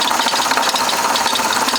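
A Chevy Impala engine runs with a fast, steady mechanical rattle, likely from a worn timing belt, close and continuous without pause.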